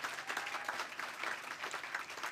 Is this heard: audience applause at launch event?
yes